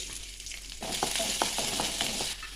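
Ginger and garlic dropped into hot coconut oil, a quiet hiss that bursts into a bright crackling sizzle with a few stirring clicks, close and alone, lasting a couple of seconds.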